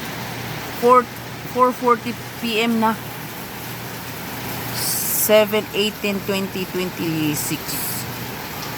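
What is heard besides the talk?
heavy rain in South Korea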